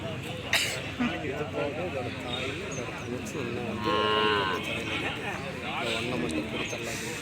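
Cattle at the Palayakottai cattle market give a drawn-out moo partway through, amid a noisy crowd with people talking close by throughout.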